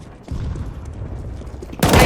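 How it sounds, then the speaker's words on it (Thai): A grenade goes off in Counter-Strike: Global Offensive, a sudden loud, harsh blast that lands after a rumbling stretch of gameplay noise. "ระเบิดแล้ว"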